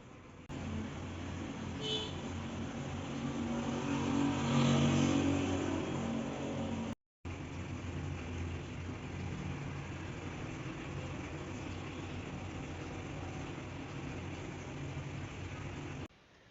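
Road traffic outside a home kitchen: a continuous muffled wash of passing cars, swelling slightly midway, broken by a brief dropout and steady at moderate level, with no one speaking.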